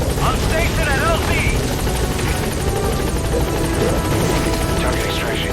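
In the Metal Gear Solid V video game, a support helicopter arrives at a landing zone, its rotor whirring loud and steady throughout while a voice talks over it.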